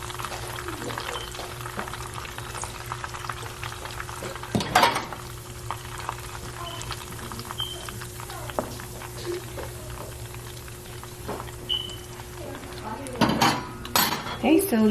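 Chicken frying in vegetable oil in a pan gives a steady crackling sizzle, broken by occasional clanks of utensils against the pan and faint voices in the background.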